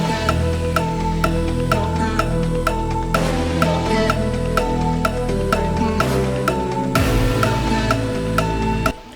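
An electronic dance track break built on a growling Reese bass under rhythmic percussive hits and layered synth chords, loud and continuous before cutting off abruptly at the end.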